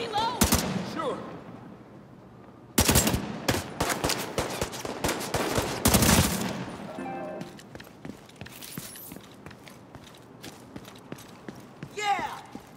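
Gunfire in the video game The Division 2: loud bursts of automatic shots in clusters with gaps between them, mixed with in-game voices and other game sounds.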